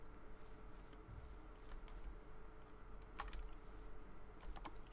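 Computer keyboard and mouse clicking during a PUBG gaming session, faint but steady typing with a few sharper clicks, close and alone without talk.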